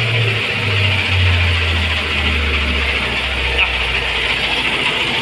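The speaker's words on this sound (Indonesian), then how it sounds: "Ini pakai genset, ini yang ini kita lihat di sini." A diesel generator running at an outdoor sound-system setup before a takbir keliling parade gives off a steady, loud mechanical drone with a low engine hum, as people talk nearby.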